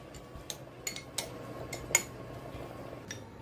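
A spoon stirs gremolata of parsley, garlic and lemon zest with plenty of olive oil in a bowl, giving a few faint, scattered metallic clinks and scrapes against the bowl over quiet room noise.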